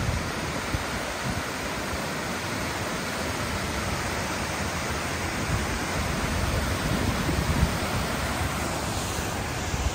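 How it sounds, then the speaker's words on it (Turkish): A waterfall roars as loud, unbroken, broadband rushing water, close by and filling the whole scene without a break. "Şelale harika."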